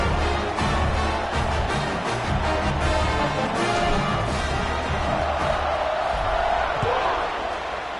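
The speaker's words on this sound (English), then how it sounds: "this crowd now ready to get behind them" A football stadium crowd roars steadily just before kickoff, a dense, continuous wash of cheering that holds loud and even throughout, with no clear voices standing out.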